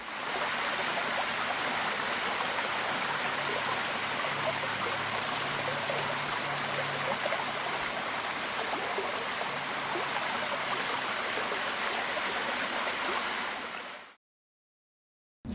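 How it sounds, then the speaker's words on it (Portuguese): Steady, broadband rush of running water from a waterfall, loud and continuous for about fourteen seconds before cutting to silence. "Acertou quem disse que é a água correndo, né? Uma cachoeira."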